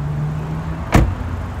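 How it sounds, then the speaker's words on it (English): Trunk latch of a 2014 Honda Accord Sport popping open: one short, sharp thunk cutting through a steady low engine idle hum, fairly close and alone. "We'll go ahead and pop the trunk too"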